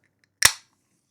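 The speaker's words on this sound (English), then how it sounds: "Let's pop this. I just like the sound of it." A drink container pops open with a single sharp, snappy burst followed by a short fizzy tail, close and crisp against near silence.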